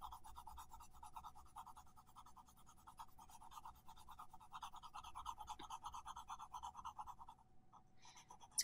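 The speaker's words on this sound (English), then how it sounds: "I'm using the side of the pencil so that I can evenly shade across that whole area." Side of a blue pencil shading evenly across paper for a kingfisher drawing: a faint, steady scratchy rubbing in continuous back-and-forth strokes, close and quiet, with no voices.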